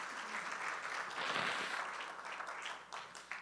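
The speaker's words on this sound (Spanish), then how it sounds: "Le damos un fuerte aplauso al Señor Jesucristo." A church congregation gives a strong round of applause, a steady, even patter of many hands heard from some distance and fairly faint, with no voices over it.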